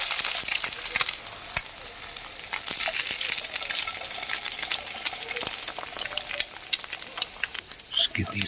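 Bacon, egg and potato fry in a pan just after flipping, a continuous crackling sizzle with scattered sharp pops and light scraping, no voices.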